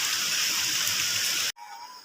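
A mountain stream in a hill village rushes steadily and close by as a bright, continuous wash. It cuts off abruptly partway through, leaving a quieter hiss with a faint tone.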